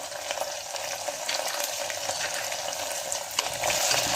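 Sliced ridge gourd frying with spices in a pan, a steady sizzle with soft scraping strokes of a spoon stirring through it, close and moderately quiet, no voices.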